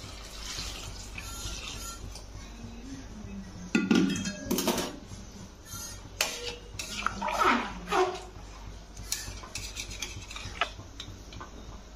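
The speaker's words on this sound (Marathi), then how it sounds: "त्यात नेहमी असं कडकडीत गरम पाणीच टाकायचं" Hot water poured into a pot of spiced mutton for curry, a soft rushing pour with bubbling bursts and scraping, fairly faint and alone.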